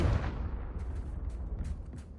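A Confringo spell explosion in the video game Hogwarts Legacy lands as one deep, booming burst that fades into a rumbling tail with faint crackles.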